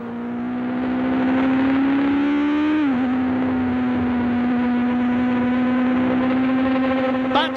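A 1970s Formula 1 race on track, with a Ferrari and a Lotus close together. A loud, sustained engine howl dips in pitch midway as the car shifts or brakes, then holds a steady high whine.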